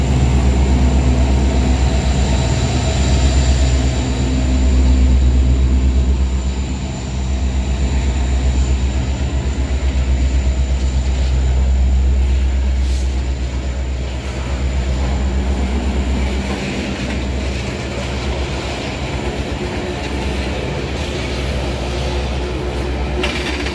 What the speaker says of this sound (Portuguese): Locomotiva tá de ré. Ela tá tracionando aí no modo Locotrol